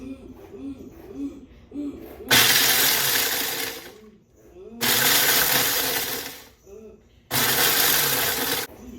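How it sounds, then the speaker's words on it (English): A food processor chopping pretzels, three loud whirring bursts of a few seconds each separated by pauses, with quieter background sounds between pulses. "We're going to put them in our food processor, and I'm going to cut these up, chop these up until we have about 1 1/4 cups of chopped pretzels."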